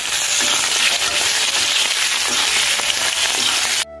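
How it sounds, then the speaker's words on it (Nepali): Potatoes fry in a pan at home for a meal, giving a steady, close broadband sizzle with crackling that runs unbroken for several seconds before cutting off abruptly. "आलु फ्राई गर्न थालेँ"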